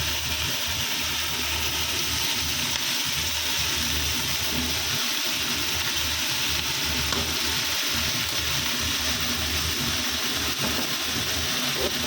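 Leafy greens frying in a hot pan, an even, unbroken hiss of sizzling oil that stays loud and close throughout, with faint low rumbling underneath and no talking.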